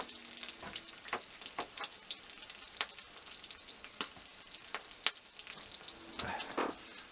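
Bacon frying over a campfire at an overnight lean-to camp, a quiet bed of sizzle broken by frequent sharp pops and crackles at an irregular pace, with no talking.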